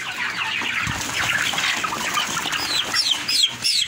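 A turkey clucks and squawks in short bursts amid a busy, noisy barnyard background, with a few higher calls near the end.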